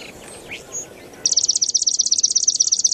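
After a moment of faint background noise, a robotic sparrow model in a marsh plays a loud, slightly distorted sparrow song as a rapid, even train of bright repeated trill notes that carries on to the end.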